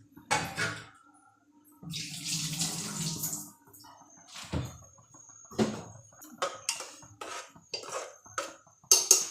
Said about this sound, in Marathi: आता डाळ एकदा डवळून घेतली जात आहे